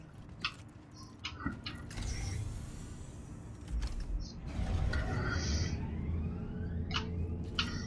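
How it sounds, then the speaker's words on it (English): Train doors close in a video game with mechanical creaks and a hissing slide, a rising whine, then a rumbling rush as the train moves, moderately loud throughout. "Doors are now closing."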